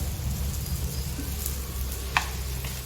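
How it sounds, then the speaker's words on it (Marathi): Paneer frying golden in ghee makes a constant close sizzle over a low rumbling hum, with a brief sharp crackle near the end. "या असं तुप्पात एकदम गोल्डन फ्राय करून घेतलंय"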